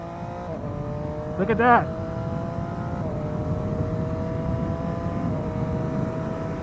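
Engine of a 2018 Triumph Street Triple RS motorcycle ridden on the road, holding a steady drone with a quick-shifter gear change that briefly shifts the pitch partway through, close and fairly loud under wind, with a rider talking.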